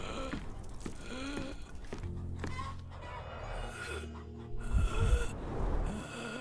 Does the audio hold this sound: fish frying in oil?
no